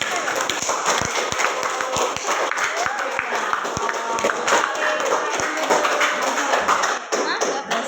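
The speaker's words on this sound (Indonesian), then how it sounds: "tepuk tangan dulu untuk kelompok 1" A classroom of students claps steadily for the first group during a teacher-training lesson, a dense patter of hands beneath a voice speaking over it.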